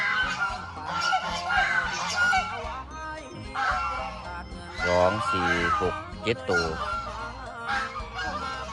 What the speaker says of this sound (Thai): ห่านนี่คือห่านครับ